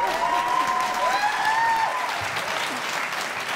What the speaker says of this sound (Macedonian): Аплауз за Лепа Брена!